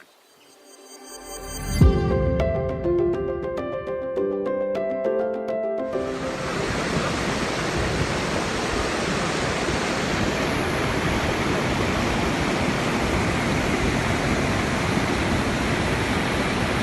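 Water flowing at Wadi Hanifa in Riyadh: a few plucked musical notes open, then a broad, steady rushing of water takes over, loud and continuous like a close cascade.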